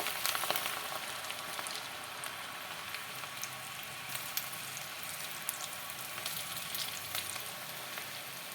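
Onion potato pakoda batter frying in hot oil, a steady close crackling sizzle with dense popping bubbles running continuously and evenly throughout.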